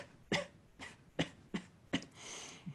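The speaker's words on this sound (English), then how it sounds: "So you can cough with pursed lips like this." A person gives a demonstration of coughing through pursed lips, producing five short, soft, breathy coughs spaced about half a second apart and ending in a longer exhaled hiss.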